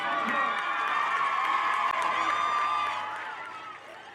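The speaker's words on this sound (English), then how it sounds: "Let's give them all one big round of applause." Crowd cheering and applauding the champions at a 7th-grade football championship trophy presentation: a dense, sustained roar of voices with shouts and whoops, which eases off toward the end.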